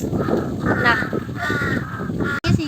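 Crows caw in a village, giving several harsh, repeated calls at moderate distance, with someone talking over them throughout.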